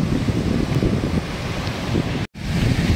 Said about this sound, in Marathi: तो मौजो खतपत येते तो बघा. उधाणचं पाणी वाढलेलं आहे.